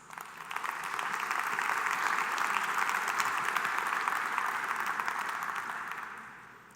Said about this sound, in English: Let's give these donors a round of applause.